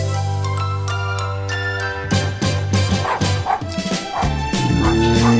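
A dog barks and yips in quick bursts with a faint jingle, layered over a sustained musical tone that shifts partway through, fairly close and moderately loud.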